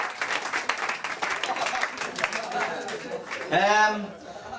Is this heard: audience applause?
yes